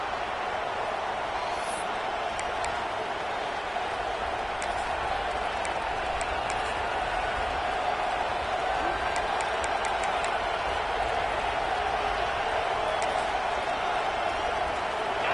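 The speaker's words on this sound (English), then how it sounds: "This crowd ready to make its presence known." Big football stadium crowd at a Michigan versus Penn State game, a broad, steady roar of many voices held at the same level throughout, with faint whistles and cheers rising now and then.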